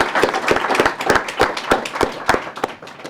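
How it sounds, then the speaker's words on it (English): A small workshop audience gives a brief round of applause, a dense patter of many hands clapping close together for about three seconds before fading out. "So maybe we can give them a little round of applause"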